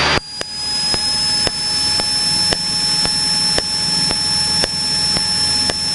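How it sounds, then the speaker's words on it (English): Light aircraft engine during a go-around with the throttle pulled back, a loud steady engine drone broken by regular sharp pops of afterfire about once per second, close and continuous. "You hear that after fire when you pull the throttle back?"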